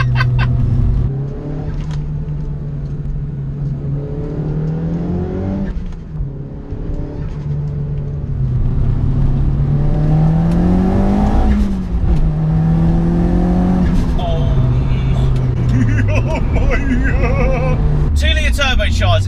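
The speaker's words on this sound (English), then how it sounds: "Let's go for a second gear, chuck it in, all of the grip in the actual world, all of the power in the world as well." Nissan Pulsar GTI-R with a forged, bigger-turbo SR20DET pulling hard in second gear, a loud close engine note rising and dipping through revs with turbo whoosh, while someone talks over it.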